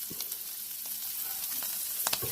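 Garlic and green chili sauté in a pan for a mushroom curry, giving a dense, continuous sizzle close by with a few brief scraping stirs near the end and no speech.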